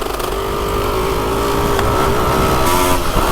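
Honda MTX125R two-stroke motorcycle engine running steadily while riding, a loud continuous buzzing drone with a slight rise in pitch near the end.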